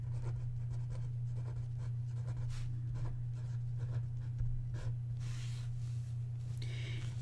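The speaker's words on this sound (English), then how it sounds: "I'm practicing this on a separate piece of paper just so that you can get used to the pen stroke" A pen drawing practice strokes of a tangle pattern on a separate sheet of paper, faint scratchy strokes continuing steadily over a low steady hum.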